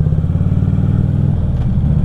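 A Harley-Davidson Street Glide CVO touring motorcycle rides along city streets, its low rumbling V-twin throb steady and loud up close, with rhythmic pulsing and some clatter throughout.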